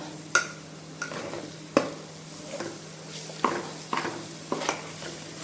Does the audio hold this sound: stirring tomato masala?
yes